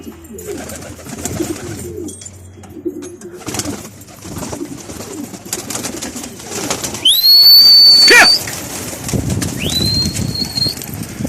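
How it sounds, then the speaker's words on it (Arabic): Pigeons in a loft coo softly and flap their wings in close, rustling bursts, with one loud flurry of wingbeats and a few sharp whistling tones. "هاي الحمامات"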